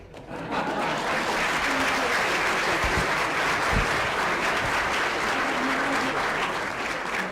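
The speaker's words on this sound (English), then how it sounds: "So let's give a round of applause." Sustained applause from diners at a retirement dinner, a steady, full wash of many hands clapping that holds evenly for several seconds, with faint voices underneath.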